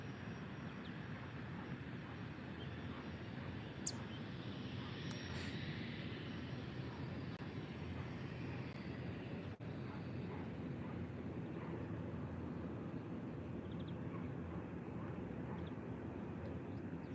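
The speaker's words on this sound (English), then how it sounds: "another Iberia ATR 72 going to Tangier" An Iberia ATR 72 turboprop airliner departing Málaga airport for Tangier, heard as a steady, broad engine roar at moderate distance that holds evenly throughout, with no voices.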